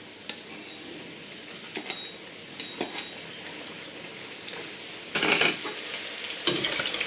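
Chips frying in hot oil for a final minute or two of browning, a soft steady sizzle broken by several sharp clinks and scrapes of a metal utensil against the pan.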